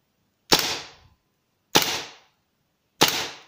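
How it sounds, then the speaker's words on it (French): Three sharp shots from a gas airsoft Desert Eagle pistol by WE, evenly spaced about a second apart, each a crisp crack with a quick mechanical clack of the gas-driven slide trailing off. "on entend le gaz qui vient pousser la culasse en arrière"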